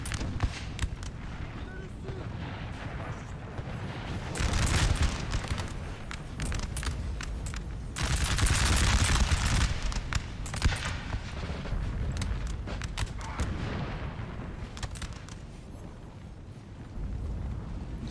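Battle gunfire in Napoleon Total War: dense, continuous musket volleys and booming shots rolling on in overlapping bursts, loud throughout, with a voice commentating over the din.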